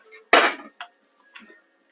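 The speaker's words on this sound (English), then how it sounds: "I'm just going to stir the fish through" Plaice fillets stirred in a pan with a utensil: a loud scraping clatter, then two shorter scrapes, close by and with no talk.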